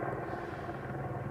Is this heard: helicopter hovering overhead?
yes